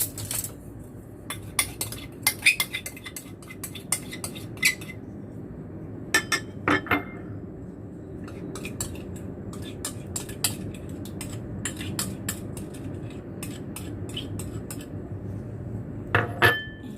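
Chicken pieces being mixed with seasonings and black pepper in a bowl for crispy fried chicken legs, giving repeated clinks and scrapes of a utensil against the bowl in an irregular rhythm, fairly close and with no voices.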